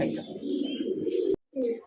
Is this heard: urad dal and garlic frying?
no